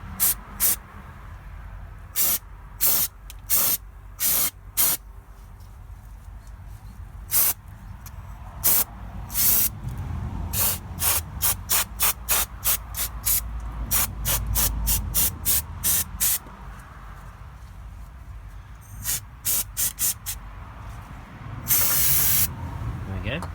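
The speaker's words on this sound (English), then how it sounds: "just give it a little bit of copper grease." Short bursts of spray from an aerosol of copper grease directed onto the front brake hub of a 2013 Renault Master 2.3 dCi van. The bursts are close and repeated, some sharp and quick and some run together in quick rhythm, with a longer hiss near the end.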